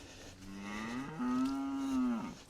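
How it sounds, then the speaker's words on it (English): A single hungry cow in a wet paddock gives one clear, drawn-out moo lasting about two seconds, close by and alone against quiet background. "let's get these hungry cows"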